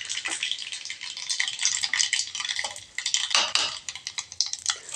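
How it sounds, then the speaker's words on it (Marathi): Tempering (tadka) for coconut chutney sizzling in a pan, crackling bursts of hot oil with a spoon stirring and scraping against the vessel, near and lively, with no talking. "हे टाकून आता मी तडका देते छान चटणीला."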